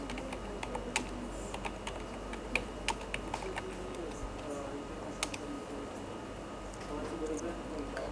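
Typing on a computer keyboard during Linux network configuration, heard as quick, close, irregular key clicks over a steady background hum, with a voice talking throughout.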